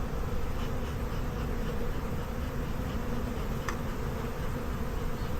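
A steady, dense hum of many honeybees buzzing close by in an open hive, continuous and even throughout with no talking.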